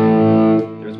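A sustained, heavily overdriven electric guitar chord played through a Tube Screamer pedal rings out loud and close, then begins to fade.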